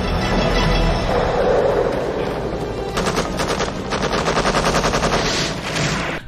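Rapid automatic gunfire from a helicopter crew firing back at an enemy sniper in the 1993 film Sniper, a dense rattling burst that follows a loud rushing roar of rotor and engine noise.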